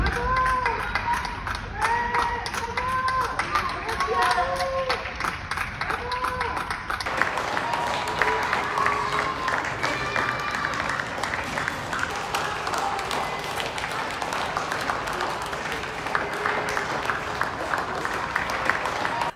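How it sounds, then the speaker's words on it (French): Residents applaud health workers fighting Covid-19 from their windows and balconies during lockdown, producing sustained clapping and crowd noise from across the street with distant cheers and a voice talking over it. "les habitants applaudissent le personnel soignant qui se bat contre le Covid-19"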